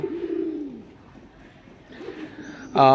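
Aggressive male pigeons in a loft give a few short coos, one near the start and another later, close and fairly clear against a quiet background.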